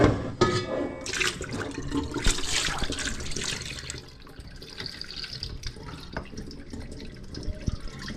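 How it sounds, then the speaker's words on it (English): Water pours and splashes steadily into a sink or pot in a modern kitchen, a close, continuous rushing stream that eases slightly partway through, with small clinks and no talk. "so we'll pour this water"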